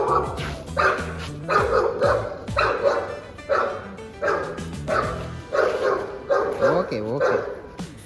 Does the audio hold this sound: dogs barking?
yes